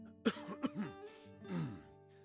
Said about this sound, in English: I see he's got the old man cough